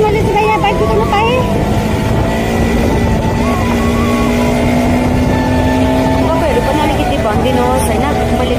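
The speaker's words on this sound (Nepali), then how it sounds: "फाइनली गाइस मैले चाहिँ यहाँ बाइक कुदाउन पाएँ।" A motorbike is ridden along a main road, its engine droning steadily and shifting pitch with wind buffeting throughout, close and loud, with a voice faintly underneath.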